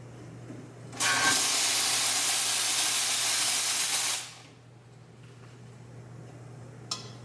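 A Lelit Bianca V3 espresso machine's steam wand lets out a loud, steady hiss for about three seconds, then cuts off, leaving a low mechanical hum and one faint click near the end.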